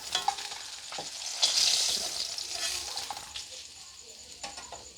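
Fish frying in a pan gives a continuous close, bright sizzle that swells for a moment and then settles, with faint handling noises underneath and no clear speech.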